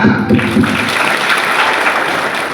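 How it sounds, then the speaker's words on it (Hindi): A church congregation bursts into loud applause during a Hindi sermon that carries on steadily, with a voice briefly audible at the start. "हम लोग सब मिल के ताली बजाएंगे"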